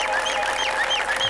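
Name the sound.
applause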